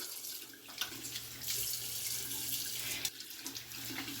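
Tap water runs steadily into a sink during face washing with warm water, a continuous close hiss and splash with slight surges and a brief dip near the end, no talking.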